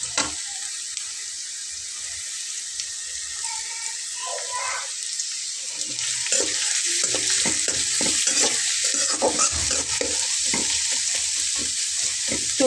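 Chopped onions drop into hot oil for a fish curry and fry with a loud, steady hiss that swells into dense crackling and stirring, close up.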